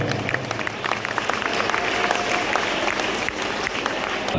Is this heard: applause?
yes